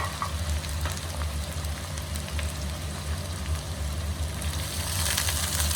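A pan of garlic-ginger and green chili paste for matar pulao sizzles and fries steadily in a dense, crackling hiss, with a constant low hum beneath and small pops scattered throughout.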